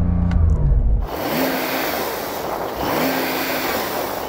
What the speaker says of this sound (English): So I'm going to rev up this 911 Turbo S.